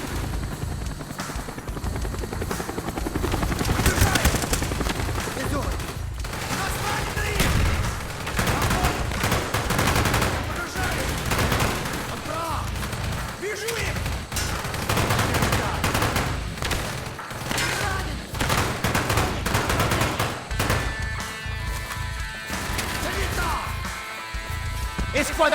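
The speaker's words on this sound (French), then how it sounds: "Subissons un tir nourri provenant des hélicoptères." Helicopters thunder overhead while sustained machine-gun fire and dense volleys of gunshots rattle through a Call of Duty: Black Ops battle, loud and continuous, with soldiers' voices shouting beneath the chaos.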